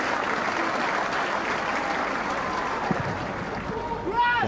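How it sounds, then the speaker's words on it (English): Football stadium crowd applauding in a minute's tribute to a late Wales manager, a broad steady roar of clapping from a large crowd with a voice speaking over it at the end. "Minute's applause in tribute to the late Wales manager, Gary Speed."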